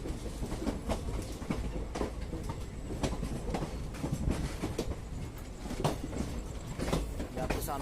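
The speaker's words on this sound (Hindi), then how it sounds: "आपके सामने जा रही है दरभंगा अमृतसर एक्सप्रेस।" Darbhanga Amritsar Express passing close by with steady rail rumble and rhythmic clickety-clack of wheels over rail joints, continuous through the whole stretch.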